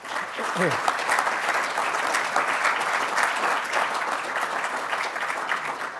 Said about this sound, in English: So can we give a round of applause to all people who've helped?